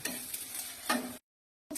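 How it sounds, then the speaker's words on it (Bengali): Uttapam frying slowly on a pan over medium heat, a steady soft sizzle with a little stirring noise that stops abruptly for half a second, then resumes. "এইভাবে আমার আস্তে আস্তে ভাজবো।"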